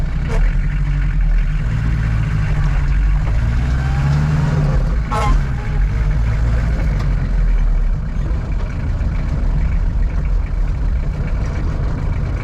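A car running on a short test drive gives off a steady engine drone with some revving and shifts in tone, close and continuous, with faint voices at times.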